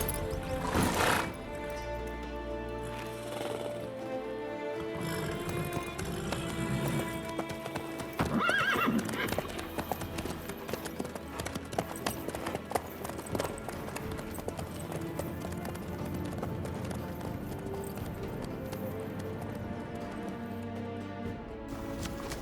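A horse in The Witcher 3 clip-clops along at a steady walking rhythm, with a loud neigh early on, set against a game music score.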